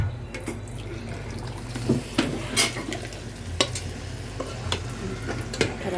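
Meat added to rice frying in a pot for chicken biryani, with a continuous soft sizzle and scraping stirring clicks, moderately near and without talk.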